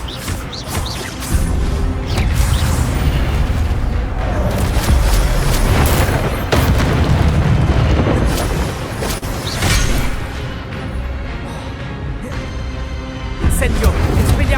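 Spell-casting combat in a Hogwarts video game: dense, loud booms, crashes and bursts pile up almost continuously, with a player's voice calling out over the effects.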